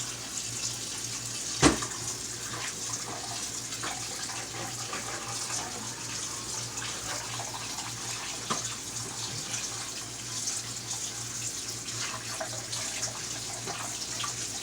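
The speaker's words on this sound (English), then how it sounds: "Rinsing till my water comes out clear." Steady tap water runs into a colander, rinsing food while cleaning out the refrigerator during meatless meal prep, a continuous hiss with a brief clatter near the start and no talk.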